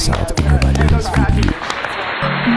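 Audience applause at the 66th Grammy Awards ceremony in Los Angeles, a dense wash of clapping that rises right after a voice speaks, filling the hall loudly and then holding steady.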